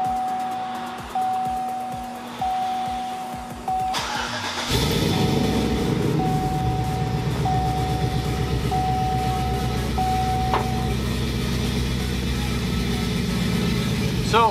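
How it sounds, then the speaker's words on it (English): A 2007–2013 Chevrolet Silverado or GMC Sierra pickup in a home garage: dashboard chimes ping repeatedly, then the engine cranks and catches with a loud surge and settles into a steady, close idle while the chimes keep sounding. "So I'm gonna open the garage so I can start the truck up."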